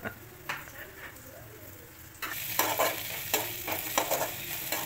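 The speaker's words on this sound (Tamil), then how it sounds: "வெங்காயம் நல்லா வதங்கிருச்சு." Onions sautéing in a pan, quiet at first, then louder sizzling with brisk, repeated stirring scrapes close by in the second half.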